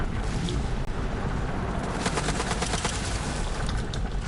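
Sniper rifle shots in Borderlands 3 crack out as a few sharp reports over continuous game background noise, with a cluster of impacts in the second half.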